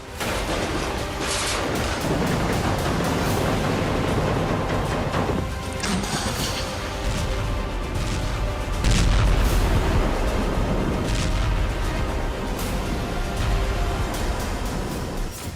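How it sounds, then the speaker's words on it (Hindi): Russian rocket and artillery strikes on residential areas of Avdiivka: a dense, continuous barrage of booming blasts and crackling gunfire, with heavier impacts rolling in partway through, loud and sustained. "रिहायशी इलाकों पर रूस रॉकेट बरसा रहा है।"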